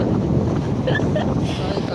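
Strong typhoon wind buffets the microphone in a constant low roar, with faint higher whistling tones and no clear voices.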